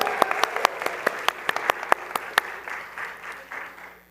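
A congregation applauds to kick off Aviva's bat mitzvah at a Friday night Shabbat service, with distinct loud individual claps punctuating a steady crowd patter that gradually thins and fades toward the end.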